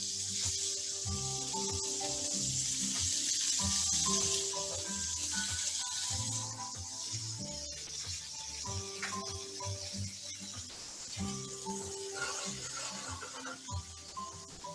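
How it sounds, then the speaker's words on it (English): Kangaroo sinew browning in a dash of oil in a pan gives a steady, close sizzling hiss that runs throughout over background music. "We're just going to go in and just brown off that kangaroo sinew"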